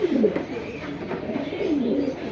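Lal Bombai pigeons cooing nearby, a steady run of low throaty coos repeating across the moment with no talk over them.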